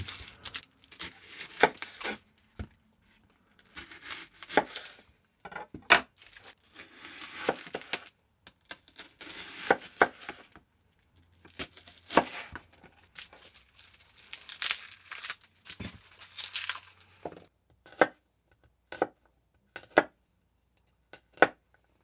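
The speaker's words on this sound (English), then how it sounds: "we're now ready to cut up our onion and our garlic." Knife work on onion and garlic at a home kitchen counter for vegan veggie burgers: irregular bursts of crisp cutting and crinkling, with short sharp chops and pauses, close and moderately loud, no talking.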